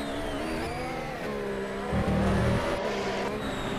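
A race car engine in the Ala Mobile racing video game drones loud and steady, with changing engine pitch and a brief rougher burst partway through.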